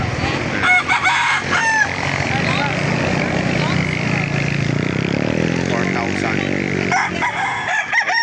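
A rooster crows at a chicken market in Laguna where fighting-cock breeds such as Golden Boy are sold, its drawn-out call rising midway through under steady nearby talk and market chatter.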